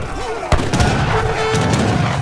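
A great cannon in Age of Empires III fires a single heavy boom near the start, followed by rumbling battle noise and scattered impacts under game music.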